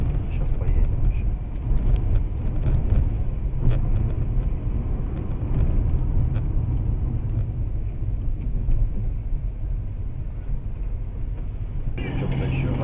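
A diesel engine under load rumbles low and steady up close, a continuous heavy drone with faint ticks and knocks on top, while people talk over it.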